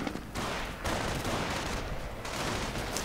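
Bursts of gunfire from a World War II strategy video game, riflemen and Panzer Grenadiers trading shots, a dense crackling fusillade of rifle and machine gun fire with short gaps, heard alone and fairly faint.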